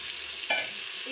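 Soaked chickpeas, potato and chayote fry in a pressure cooker with a steady, fairly loud broadband sizzle and a brief stirring scrape partway through, with no voices.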